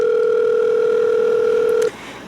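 A phone dial tone sounds while calling a friend, a steady, loud electronic hum held for about two seconds before cutting off abruptly, with no one talking.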